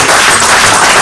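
A church congregation breaks into a brief burst of dense, loud applause, many hands clapping together at close range.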